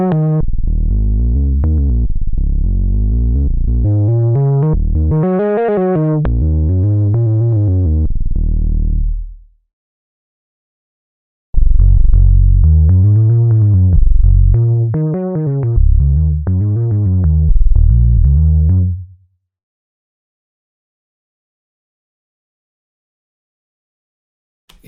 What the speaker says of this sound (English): so a little bit of distortion